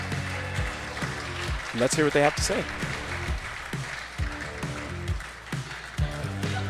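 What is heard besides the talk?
audience applause at a pickleball event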